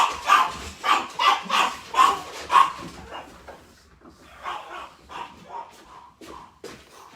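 Pet dogs playing outside bark, yip and whimper in a rapid run of short, moderately loud calls, then a softer, more scattered set of yelps further off, with faint background sound.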